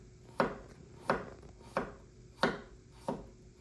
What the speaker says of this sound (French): on vient se couper des fines tranches.